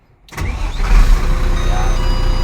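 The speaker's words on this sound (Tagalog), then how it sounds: "saka natin i-on yung makina" A Howo 371 ten-wheeler dump truck's engine starts close up. After a brief silence the starter cranks, the engine catches, and it settles into a loud, steady idle.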